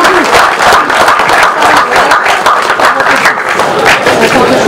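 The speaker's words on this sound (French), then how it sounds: "On l'applaudit très fort." A roadside crowd at a cycling race claps and cheers loudly for a young rider at the stage start in Lizio, with steady, dense applause and voices mixed in throughout.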